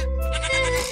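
A single goat, the breeding male of a farm herd, lets out one loud, close, wavering bleat lasting about a second.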